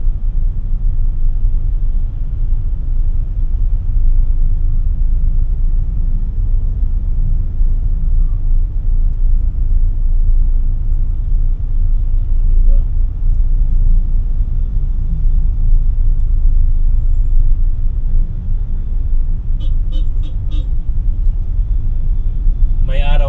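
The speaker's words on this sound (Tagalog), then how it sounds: "grabe na ang traffic oh" Heavy city road traffic near Central Avenue heading toward Makati, a steady loud low rumble of idling and creeping vehicles, heard from inside a car with a person talking over it.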